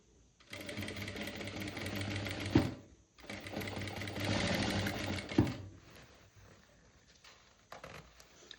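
A sewing machine stitching elastic onto pants runs in two loud, rapid whirring bursts separated by a brief pause, then a fainter, slower stretch of stitching toward the end.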